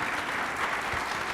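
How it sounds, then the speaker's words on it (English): Brief burst of audience applause at a disability access and inclusion awards ceremony, many hands clapping in a steady, even wash at moderate volume. "applause is appropriate at this time"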